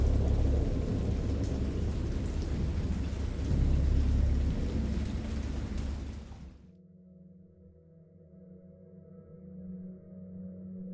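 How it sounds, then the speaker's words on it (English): Heavy rain pours with rolling thunder rumbling in the video game Dagon, then cuts off abruptly after about six seconds, leaving a quiet low hum. "I heard pearls of thunder"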